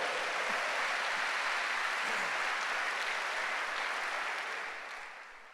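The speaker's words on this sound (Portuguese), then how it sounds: "Dá um aplauso ao Senhor." Congregation applauding in church at a congress of churches, a sustained wash of clapping from many hands that gradually fades out at the end.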